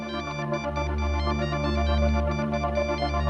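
A telephone rings in a continuous electronic tone that holds steady and fairly loud, with no talk over it.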